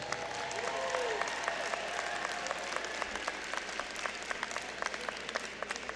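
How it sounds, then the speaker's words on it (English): A large crowd applauds the new graduates at a university fall commencement ceremony, the clapping steady and moderately distant with individual claps standing out in a continuous wash. "Let's give the new graduates a round of applause."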